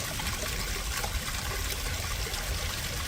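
Steady rushing and trickling water from a garden waterfall in Ireland, a constant even wash of sound with no voices.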